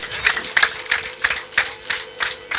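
An audience claps in a steady, rhythmic beat, about three claps per second, loud and close, with crowd noise underneath and no talk.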